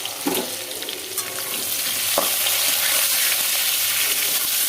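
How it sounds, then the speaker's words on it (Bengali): Potato and papaya pieces fry in a pan of hot oil with a loud, steady sizzle that grows fuller, plus a few scraping stirs near the start. "আমি একটু ভেজে নিচ্ছি"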